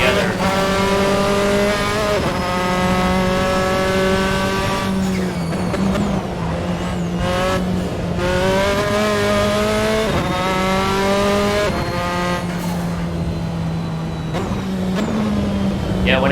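Race car engine in the Assetto Corsa sim racing game at Oulton Park, droning loud and steady with rising and falling revs through gear changes and brief tire squeal, continuous and close throughout.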